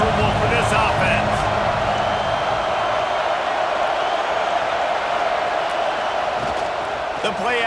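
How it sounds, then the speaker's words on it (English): Steady stadium crowd roar from a college football video game against SMU, a dense continuous wash of noise at constant loudness with commentary voices over it. "This crowd trying to make life miserable for this offense."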